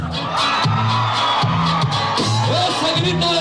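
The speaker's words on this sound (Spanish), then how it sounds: "que suene ese grito a todas las viejas bravas" Women in a crowd at a live music event shout a loud, sustained cheer on request, the whoops and yells rising in repeated surges over band music.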